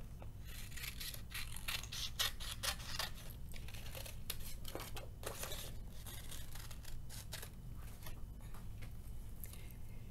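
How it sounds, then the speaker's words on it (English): Scissors snip steadily through paper, cutting out a half-moon shape for a ladybug craft, with a run of close, crisp crinkling cuts over a low steady hum and no talking. "I'm going to carefully cut that out"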